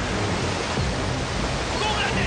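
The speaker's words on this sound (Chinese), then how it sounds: "这里有一个小瀑布" A small waterfall in Call of Duty: Ghosts, heard from close behind the falling water, makes a dense, even rush of roaring spray that stays loud and unbroken throughout.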